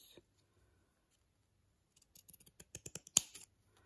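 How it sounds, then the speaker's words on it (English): Pinking shears snipping through window net fabric, a quick run of sharp crisp cuts with one louder snap near the end, close and otherwise quiet. "I'm going to use my pinking shears and just cut slowly, because I don't want to cut through the net"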